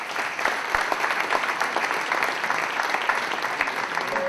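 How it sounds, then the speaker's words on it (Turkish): Audience applause at a corporate anniversary reception, a steady dense wash of many hands clapping close by for the whole stretch, with no talk over it. "alkışlandı."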